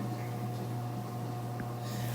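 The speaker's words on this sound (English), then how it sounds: "That's the dishwasher running right now." A dishwasher runs at home as a faint, steady low hum and gentle whir with a sustained tonal drone, quiet and continuous.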